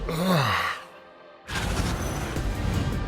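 A man lets out a drawn-out, voiced yawn that rises and falls, followed by a brief hush and then a burst of broad arena crowd noise in a basketball broadcast setting.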